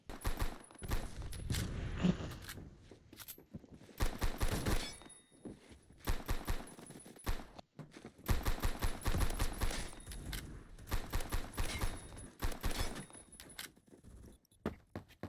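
Gunfire in the Roblox shooter Phantom Forces, with repeated bursts of rapid shots broken by brief pauses, some bursts slowing in rate, sharp and close throughout.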